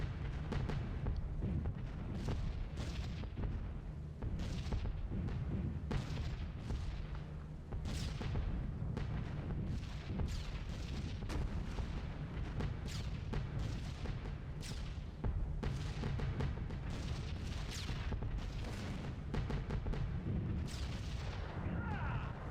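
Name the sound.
anti-aircraft flak bursts in B-17 The Mighty 8th video game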